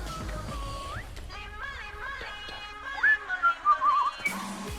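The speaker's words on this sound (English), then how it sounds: "I like the whistle." A whistled melody plays within music, sliding tones over a backing track that grows busier toward the end.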